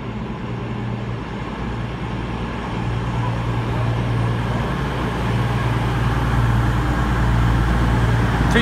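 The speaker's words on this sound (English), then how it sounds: "coming in now is a cross country service to Plymouth" Five-coach CrossCountry train arriving at Newton Abbot station, a steady loud rumble and engine drone that builds slowly and holds throughout, close by, with no voices over it.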